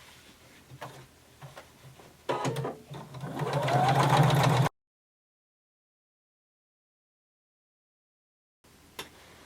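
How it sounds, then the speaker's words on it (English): A sewing machine begins stitching a denim waistband at a 5/8-inch seam allowance, first with a few soft clicks, then a short steady run of a couple of seconds, followed by silence and a brief faint tap. "Using 5/8 of an inch seam allowance, we're going to stitch all the way around."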